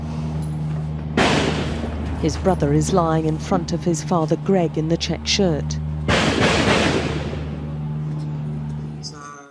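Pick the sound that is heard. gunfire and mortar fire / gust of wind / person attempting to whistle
gunfire and mortar fire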